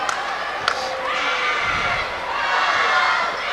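Crowd of fans cheering and applauding for Rutland as the team comes out at a boys varsity high school basketball game, a broad steady roar with a couple of sharp claps or shouts early on, filling the gym.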